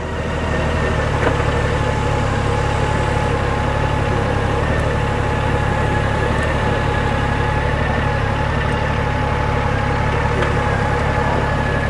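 A Honda Goldwing motorcycle engine idles steadily at a visitor center stop, a continuous low hum with harmonic drone holding even throughout, close and fairly loud with no talking.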